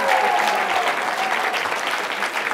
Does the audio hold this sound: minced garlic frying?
no